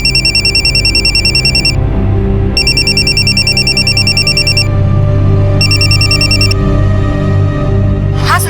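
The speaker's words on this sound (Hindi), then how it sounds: "मैंने पीसीओ से उसके मोबाइल पर कॉल किया" A mobile phone rings from an incoming call in three loud, bright electronic bursts separated by short pauses, with no one speaking.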